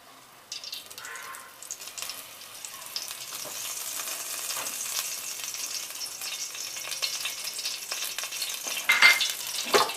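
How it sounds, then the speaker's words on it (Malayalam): Cooked pumpkin sautéing in ghee for a pumpkin payasam gives a soft, steady sizzle with faint scraping stirs, close by and growing slightly busier toward the end. "നമ്മൾ വേവിച്ച് വെച്ചിരിക്കുന്നതിൽ ബാക്കിയുള്ള മത്തങ്ങ നെയ്യ് ചേർത്ത് വഴറ്റിയെടുക്കണം."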